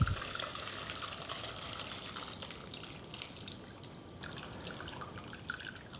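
Braising liquid from German Rouladen being strained, a continuous soft trickle and drip of liquid that tapers off slightly midway, heard alone at moderate level.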